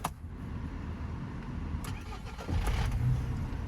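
The 2.0-litre engine of a 2013 Renault Trafic van cranks and turns over, then settles into a low, steady rumble, heard close by with no talking.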